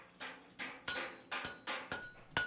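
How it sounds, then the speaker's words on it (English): A hammer striking copper to shape a kettle handle in a copper kettle workshop, about eight ringing metallic blows in an uneven rhythm, close and clear with no talk. "Hammers are used to shape the copper"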